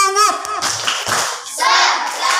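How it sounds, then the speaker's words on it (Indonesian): A classroom of students claps hands together in a quick rhythmic pattern in an Islamic religious lesson, a burst of sharp claps mixed with children's voices chanting along. "Tepuk semangat."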